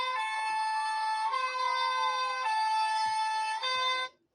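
Bulgarian emergency alert system alarm, a loud harmonic siren tone that rises and falls in ambulance-like sweeps for about four seconds before cutting off abruptly.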